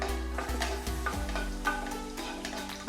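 Raisins fry in hot ghee in a pan, giving a quiet, close sizzle broken by light clicks and scrapes of stirring.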